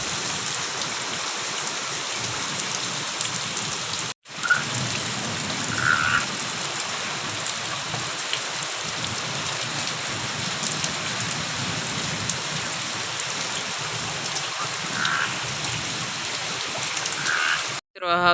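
Heavy rain falling on open farm fields, a loud steady hiss of drops with frogs croaking throughout, wind mixed in, and a brief break partway.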